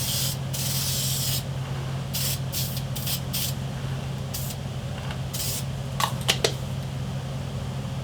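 Tan primer is sprayed onto plastic Nerf blaster parts in a run of hissing bursts, some long and some short, close and loud over a steady fan-like hum.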